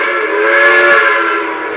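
A model railroad steam train whistle blows one steady, fairly loud, sustained harmonic tone that holds for under two seconds, alone with no talk.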